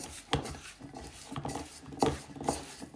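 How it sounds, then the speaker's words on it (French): A spatula scrapes and knocks against a bowl while butter is mixed by hand, with soft irregular clinks and scrapes at close range, fairly quiet, and no talking. "on va dissoudre et bien mélanger avec le beurre, donc à l'aide d'une maryse ou d'une spatule"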